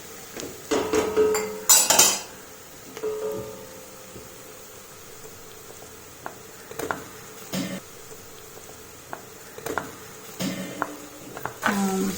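Crushed ginger, green chili and garlic stirred in a pan while cooking prawn rice. A metal spoon clinks and scrapes against the pan in intermittent bursts, up close, with a loud clatter near the start.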